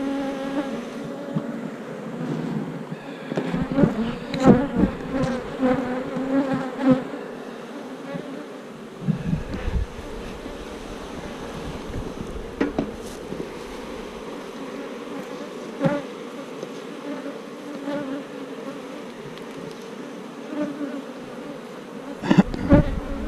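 Honeybees buzz steadily on a hive's bottom comb, a close, continuous droning hum with swelling and fading pulses from individual bees passing near, and no talking.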